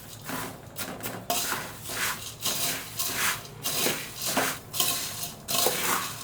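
Bombay bhel with sev is mixed in a bowl, with a spoon giving rhythmic, crunchy scrapes and clinks against the dish in repeated close strokes.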